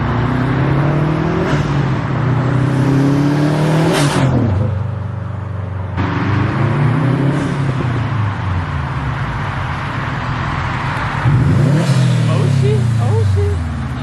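A Subaru WRX STI fitted with an aftermarket intake and turbo revs hard several times, with loud, close engine pitch sweeping up and down and a steady whooshing intake and turbo roar between revs.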